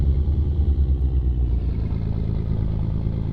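Simulated Volvo NH12 truck engine from an American Truck Simulator mod, a steady low rumbling drone with a faint rattly texture, running continuously throughout with no talk.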